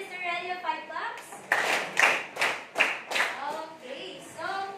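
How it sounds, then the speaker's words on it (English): An audience at a dessert cooking demonstration claps in a few loud bursts, alternating with a child's and adults' voices talking. "Let's give Mr. Relio 5 claps."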